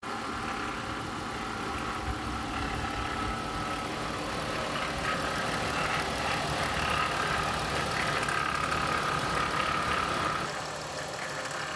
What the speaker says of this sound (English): But this is the actual van noise.